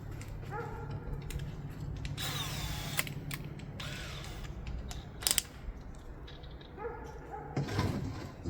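Bursts of a whining power drill, starting and stopping several times, with a steady low hum underneath and a few sharp clicks.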